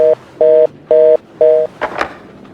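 Desk telephone in Max Payne 2 rings four times in even, clipped electronic bursts, loud and close, followed by a brief rattling clatter as the receiver is handled.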